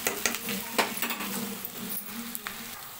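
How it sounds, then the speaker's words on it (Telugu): Onions stirred and fried in a pan sizzle steadily while a spoon scrapes and clinks against the metal in irregular strokes, close up with no talk. "ఇలా కలుపుకుంటూ కొంచెం ఉల్లిగడ్డ ఇంకొంచెం గోల్డెన్ కలర్ వచ్చే వరకు వేగనివ్వాలి."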